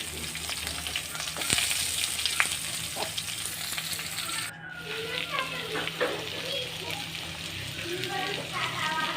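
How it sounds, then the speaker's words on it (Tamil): Large onions sautéing in a pan for radish gravy give a steady close sizzle, with occasional scraping stir clicks, while a voice talks over part of it. "அந்த பெரிய வெங்காயத்தை போட்டு நல்லா வதக்கிக்கணும்"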